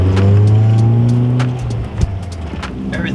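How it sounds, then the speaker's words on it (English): A Ford EF wagon drives along with a loud, steady engine drone that eases off partway through, with a brief knock near the end and road noise continuing underneath. "Definitely different driving this car compared to the other wagon"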